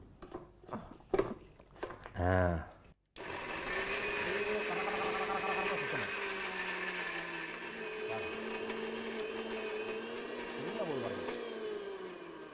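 A mixer grinder grinds ingredients for ney kozhi, starting after a brief pause with a loud, steady whirring motor drone that keeps running with shifting pitch, preceded by a person talking.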